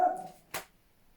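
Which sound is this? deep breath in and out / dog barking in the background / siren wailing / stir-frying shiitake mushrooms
dog barking in the background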